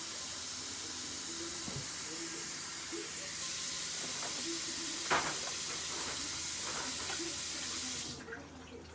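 Steady hiss of cold water pouring from a tap, continuous for several seconds before cutting off near the end, with faint clinks in the background.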